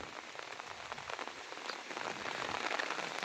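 Heavy rain pours steadily onto open farm fields, a dense, even hiss of drops that swells slightly toward the end, with no voices.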